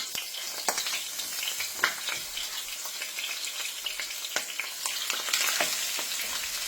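Beef short ribs searing in a hot pan for soul food smothered ribs, a steady close crackling sizzle with scattered sharp pops throughout, no voices.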